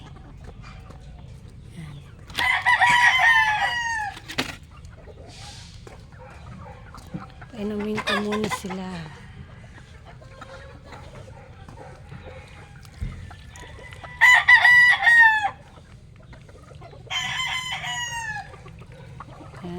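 Hens cluck in short bursts in a breeding pen while a rooster crows a few times nearby, and a person speaks briefly among the birds.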